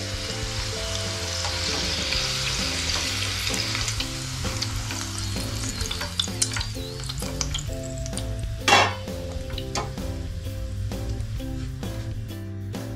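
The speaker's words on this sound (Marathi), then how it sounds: "पूर्ण मोदक आपण असेच तळून घेऊयात।" Modak dumplings deep-fry in hot oil with a loud, continuous close sizzle and bubbling, broken by occasional stirring scrapes and one sharper clatter near the end; nobody talks.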